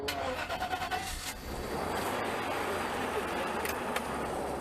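A Mercedes W140 engine idles steadily with a continuous mechanical hum and rattle, a few irregular knocks at the start, no talking.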